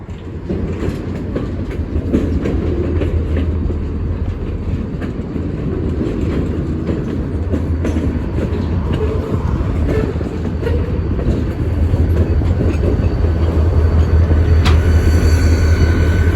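A CSX freight train rumbles past close by, with a steady roar of wheels and clanking cars that swells slightly toward the end.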